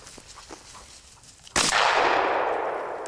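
During a quail hunt outdoors, a single sharp shotgun blast cracks out about halfway through, its echo rolling away slowly into the open field after a stretch of quiet rustling and footsteps.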